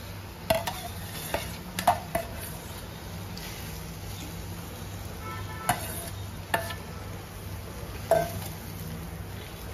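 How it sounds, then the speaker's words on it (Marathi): Boiled potato and vegetables for pav bhaji are mashed and stirred in a pan with a masher. Metal knocks and clinks against the pan repeat at an irregular pace over a soft sizzle. "स्मॅशरने जरा एकत्र करायचं. सगळं नीट मिक्स करायचं."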